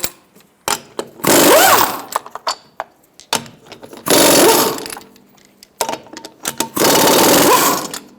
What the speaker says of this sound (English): Using a 21mm socket, I'm going to take our lug nuts off.